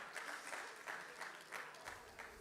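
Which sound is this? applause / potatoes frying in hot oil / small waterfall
applause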